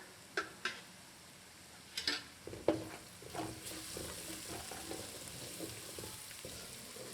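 Masala with green chili frying in a pan: a soft, steady sizzle under intermittent spoon clinks and scraping as it is stirred, fairly quiet and close.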